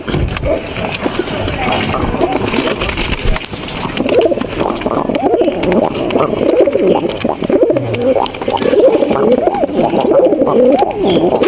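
A pair of pigeons coo repeatedly up close in soft, throaty bursts that come quickly one after another, with a voice speaking at moments among them.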